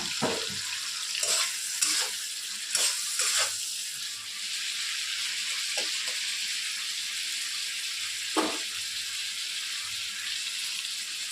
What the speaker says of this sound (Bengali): চিংড়িগুলো লাল লাল করে ভেজে নিয়ে আমি ফিরে আসছি।